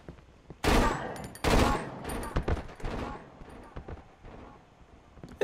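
Gunfire in the horror game Cry of Fear: two loud close bursts early on, then scattered sharper shots and thuds fading in level, with no talk over them.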